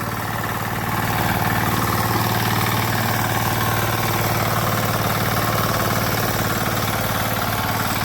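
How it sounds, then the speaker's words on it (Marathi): A tractor ploughing a flooded rice paddy in Konkan runs with a steady, throbbing mid-pitched engine chug, loud and close, holding constant for several seconds with no voices. "इथे नांगरून घेतोय आता ट्रॅक्टरने"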